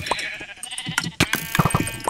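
Sheep bleating in the Minecraft video game: several short, separate game-style bleats through the clip, some louder and close, with a clicky, busy background of other game sounds.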